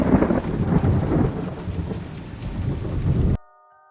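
Heavy rain pours down with deep rumbling thunder rolling underneath, loud and continuous before cutting off abruptly.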